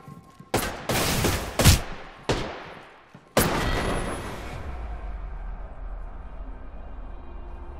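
A few loud, spaced gunshots in Apex Legends, sharp cracks each with a short tail, then a final heavier blast that rolls off into a long low rumble and lingering hum.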